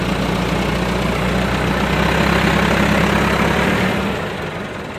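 A loud tractor engine idles nearby with a constant, rough low rumble throughout, no voices.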